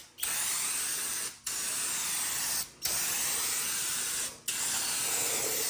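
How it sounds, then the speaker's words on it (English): Loud, close hissing bursts from a spray can, four long sprays separated by brief pauses, with no talking. "let's start with this spray on tint"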